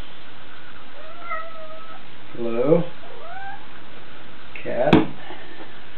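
A cat meows twice in a workshop where a window for an exterior door is being assembled. The two clear, wavering meows come a couple of seconds apart, with a person briefly speaking around them.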